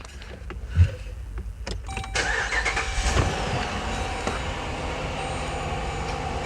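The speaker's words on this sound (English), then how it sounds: "Let's start the car." A car engine cranks and catches with a short burst, then settles into a running idle, heard close, with a few clicks and ticks around it and no voices.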